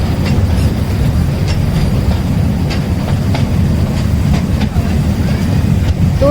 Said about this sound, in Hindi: तो दोस्तों अब हम जा रहे हैं ट्रेन राइड के लिए